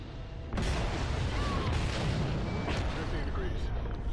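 Gunfire in the Call of Duty Ghosts video game begins abruptly after half a second and then rolls on as a steady, rumbling roar of shots, moderately loud and continuous to the end.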